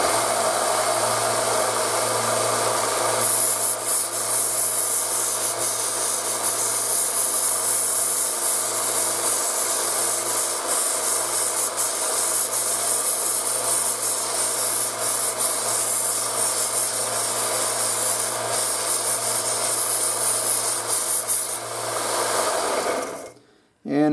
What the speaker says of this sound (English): So, we're going to start this baby up and get to sanding.